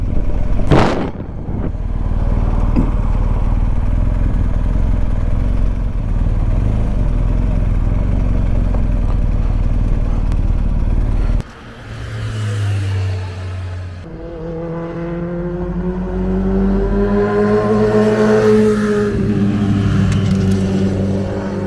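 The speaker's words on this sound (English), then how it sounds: "we can wait for a bit of traffic to go past" Loud passing vehicles on a Peak District road: a sustained close engine roar for several seconds, then after a brief drop a second vehicle revs up and sweeps by with rising and falling pitch.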